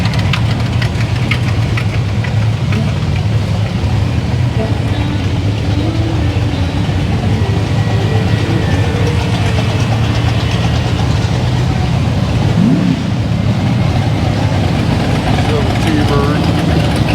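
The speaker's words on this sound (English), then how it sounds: "Cars are coming out." Classic cars rolling out at the Goodguys West Coast Nationals car show in Pleasanton: a continuous rumble of idling and slowly moving engines, loud and close, with crowd voices mixed in.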